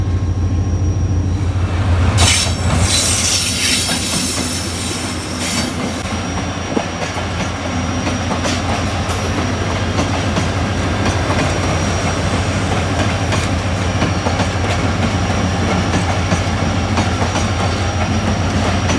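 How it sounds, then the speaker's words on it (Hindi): The 14 Down Awam Express passenger train rolls into a railway station, a continuous close rumble of wheels and carriages with clicking over rail joints and a sharp wheel squeal early on. "ये है जी 14 डाउन अवाम एक्सप्रेस।"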